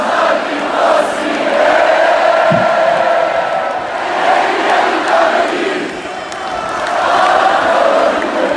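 A huge concert crowd sings along together, a massed wash of voices swelling and dipping in steady waves, loud and close, filling the whole space.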